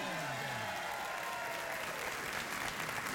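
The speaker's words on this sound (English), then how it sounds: "You want a round of applause?" Studio audience at a late-night talk show applauding, a dense continuous wash of clapping and crowd noise throughout, fairly loud, with a voice briefly audible at the start.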